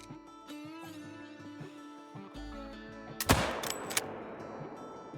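A single rifle shot cracks at a ram 300 yards off in a hunting game, following a sustained music bed, with a second fainter report about a second later.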